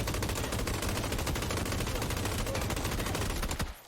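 Rapid automatic gunfire from a gun in the PUBG battle royale video game, a dense unbroken burst of shots lasting several seconds before cutting off abruptly.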